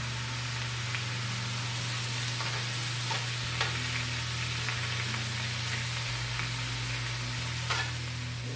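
Taco filling for Tex-Mex street tacos sizzles steadily in a pan, a constant close hiss with a few faint pops and a low hum underneath.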